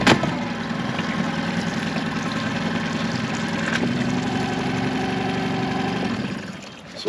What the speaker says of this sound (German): Mal kurz den Motor anmachen